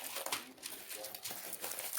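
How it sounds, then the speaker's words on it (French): A paper envelope is handled close by, giving soft, quick crinkling and rustling bursts that come and go over two seconds at low volume. "je vais tout simplement prendre une enveloppe"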